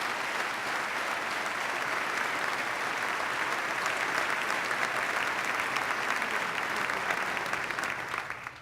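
Sustained applause from a large audience at the 2013 New York State of the State address honours state workers. The dense, steady clapping lasts several seconds with no speech, then fades out at the end.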